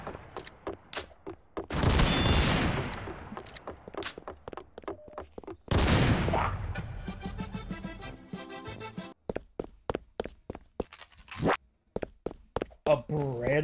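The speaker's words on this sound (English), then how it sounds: "A Beretta versus double barrel?" Gunfire from a Beretta and a double-barrel gun rings out in a Roblox game as sharp, rapid bursts of shots, some loud and sustained, mixed with thuds and excited talk.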